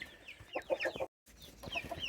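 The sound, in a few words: chicken clucking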